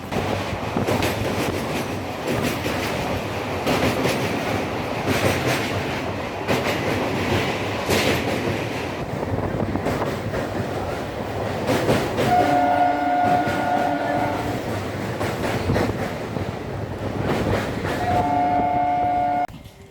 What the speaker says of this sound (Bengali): ব্রিজের ওপর দিয়ে ট্রেন যাওয়া আর সেই শব্দ একটু ফিল করে নাও আমার সঙ্গে